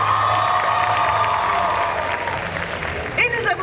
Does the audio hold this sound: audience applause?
yes